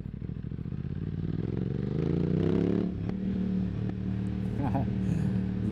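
An Aprilia RS 660 Extrema sport motorcycle accelerates hard, its engine note climbing loudly and steadily over a couple of seconds before easing off, recorded up close while riding.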